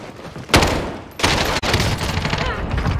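Loud, rapid video game gunfire in close bursts, sharp automatic volleys with a brief gap, filling the whole moment with no clear talk over it.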